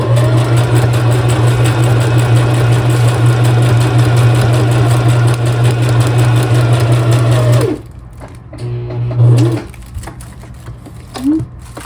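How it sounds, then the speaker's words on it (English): A sewing machine runs a zigzag stitch on fabric scraps for a quilted tag, humming steadily and loudly for several seconds before stopping, followed by a few short bursts and clicks. "So I'm just going to do that for the zigzag stitch and try to see how that looks whenever I'm sewing on here."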